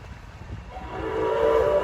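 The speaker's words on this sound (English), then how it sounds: "You got a whistle up there, Craig." A steam traction engine whistle at an outdoor steam show blows and swells louder over rumbling crowd and engine noise, a sustained blast that builds toward the end.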